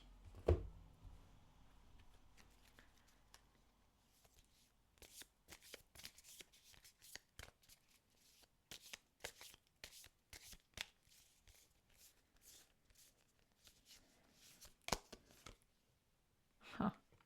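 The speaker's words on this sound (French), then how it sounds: "Et on va prendre une carte du petit le Normand aussi." Lenormand cards being shuffled by hand in a quiet room: a bump, then long runs of dense rapid riffling and flicking clicks, close and soft, with brief pauses and a final tap, no talk.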